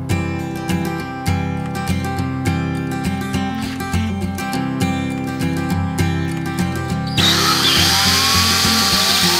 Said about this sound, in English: I'm going to go ahead and glue and screw this apron frame together